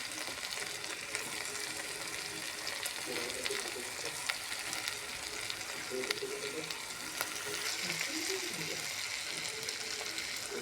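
Tomato, curry leaves, potato, garlic-chili paste and peanuts fry in hot oil for a khichdi, giving a steady close sizzle with light stirring scrapes throughout.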